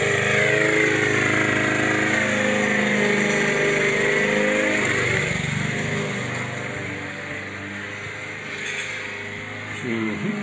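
A lawn mower engine drones steadily and loudly throughout, its pitch wavering slightly, fading a little toward the end.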